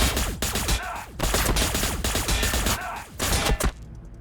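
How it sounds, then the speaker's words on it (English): A gunfire salvo in a Warhammer 40,000 video game battle between Astra Militarum and T'au forces: dense, loud volleys of rapid shots in continuous bursts, with a short lull near the end. "Keep firing until your barrel glows."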